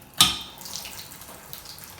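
Water from a Delta bathtub-and-shower combo tap in a hotel bathroom: a sharp knock, then a soft, steady hiss of flowing water, faint and close.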